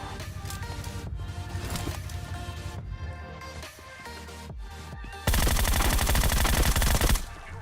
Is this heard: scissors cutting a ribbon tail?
no